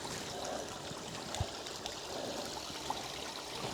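Water trickling and dribbling steadily from a partly plugged cabin water pipe, a continuous close splashing stream with a few small drips and knocks.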